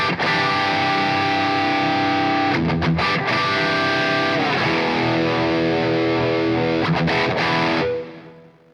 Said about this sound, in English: At the moment I'm currently playing through an overdriven tone.